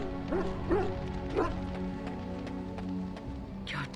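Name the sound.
dog barking in the video game Dragon Age: Origins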